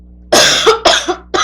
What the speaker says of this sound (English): I always start coughing when I'm on camera.